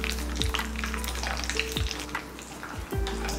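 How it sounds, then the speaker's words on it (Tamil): Split cashew nuts fry in hot ghee in a pan, a loud continuous sizzle and crackle with a few stirring scrapes, close up and with no talking. "பாருங்கள், முந்திரி பருப்பு இந்த அளவுக்கு நல்லா வறுத்துடலாம்."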